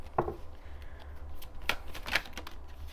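Tarot cards being shuffled in a short reading session: a burst of riffling near the start, then several crisp card snaps and flutters spread across a few seconds, close and fairly quiet with no talking.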